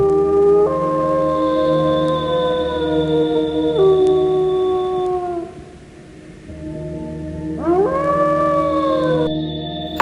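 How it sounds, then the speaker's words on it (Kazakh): Wolf howls rise and hold in long, sliding tones, several voices overlapping in a loud chorus that fades briefly midway before the howling swells again. "Қасқыр."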